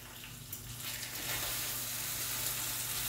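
Ground beef sizzling and frying in a pot for shepherd's or cottage pie, a steady close hiss that swells after the first second and stays loud throughout.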